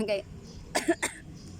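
A couple of short, sharp coughs burst out after a brief bit of voice, then quiet.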